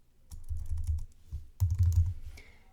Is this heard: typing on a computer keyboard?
yes